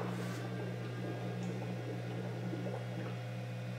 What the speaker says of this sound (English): I can hear the spindle working in the pump for the water-cooled spindle